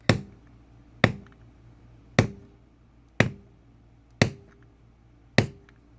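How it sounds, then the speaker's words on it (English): Six sharp, loud hammer strikes on leather land about one second apart, each a crisp tap that fades quickly, close by with no talking. "Sorry for the loud hammering noises."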